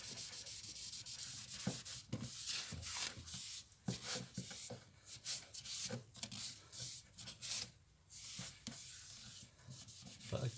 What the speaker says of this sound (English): Whatever you put on, rub it off again.